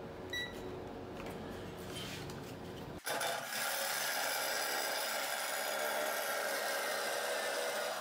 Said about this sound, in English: now you can see that reciprocating saw, that sawzall is definitely faster